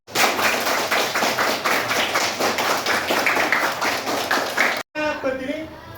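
Sixth-grade schoolchildren in a classroom clap together in a quick, regular rhythmic pattern, loud and close, before an abrupt cut to a teacher speaking.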